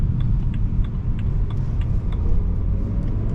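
Engine of a stock BMW E92 M Sport coupé while driving, heard from inside the cabin as a steady low rumble with a constant road drone and no talking.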